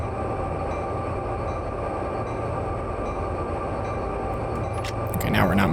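Intermodal freight train in Train Sim World 2 on Sherman Hill holds a steady, loud low rumble and hum, close and continuous, with a brief clank near the end.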